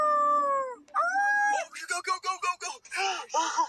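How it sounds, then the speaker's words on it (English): Coyotes howl close by in a long, wavering, high-pitched cry that rises and falls, followed by a string of shorter yips and overlapping wails, with people talking faintly underneath. "Guys, there's coyotes right there."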